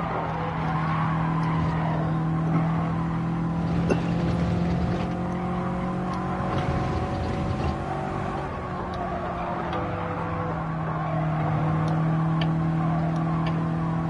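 Engine braking in a racing video game car, a steady droning engine note with shifting tones that rises and falls as the car slows, with brief skidding tire noise, continuous and fairly loud with no talk.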